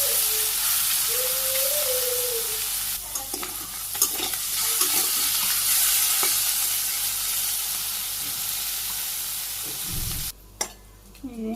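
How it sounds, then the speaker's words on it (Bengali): Fish frying in hot oil, a steady loud sizzle and hiss with occasional scraping stirs of a utensil in the pan, close up and without talk. "মাছগুলো দিয়ে দিই। তেল গরম হয়ে গেছে, নাড়াচাড়া দিয়ে একটু সরিয়ে দিই।"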